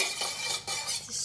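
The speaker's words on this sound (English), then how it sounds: "Just stir a bit." A short stretch of stirring in a pot of pandan water, with soft scraping and liquid swishing close by, steady and moderately quiet for just over a second.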